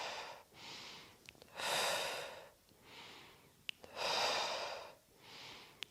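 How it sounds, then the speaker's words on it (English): Slow, audible breaths in and out during a hatha yoga flow, with long airy exhalations through the mouth recurring in a steady rhythm, close and soft, with no talking. "You can breathe out through the mouth if you wish in this one."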